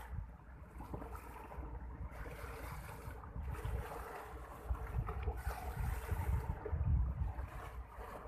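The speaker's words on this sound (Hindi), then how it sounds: "पानी की लहरें।" Sea waves roll onto a shore along a corniche at night, a continuous rushing surge that swells and recedes, mixed with gusty wind buffeting the microphone and no voices.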